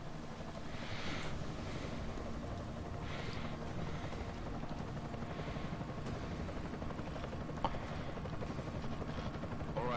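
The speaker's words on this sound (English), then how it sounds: "Enemy helo sighted." An enemy helicopter in the video game Deus Ex: Mankind Divided gives off a continuous rotor drone and whooshing wash, loud and steady throughout with a faint rhythmic chop.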